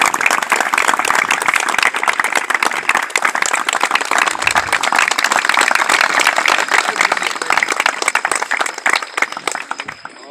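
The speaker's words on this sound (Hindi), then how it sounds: "एक बार जोरदार ताली बजाएं।" Loud, dense applause from a large crowd at a stadium award ceremony following a 3 km and 1500 m race, sustained clapping that continues without a break and thins slightly toward the end.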